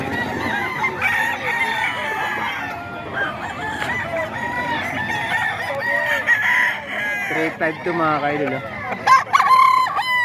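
Many roosters crow and cluck together on a farm where Thompson White gamefowl are kept, overlapping calls filling the air nearby while someone talks briefly over them.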